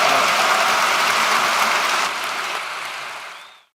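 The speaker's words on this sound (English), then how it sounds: "let's give a huge round of applause for our speakers tonight" A large audience at a live talk event in Vancouver gives the speakers a sustained round of applause, loud and dense at first, then thinning and fading out near the end.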